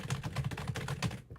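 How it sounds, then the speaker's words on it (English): Fast, forceful clacking on a computer keyboard, a dense run of loud close keystrokes that stops abruptly near the end. "The aggressive typing?"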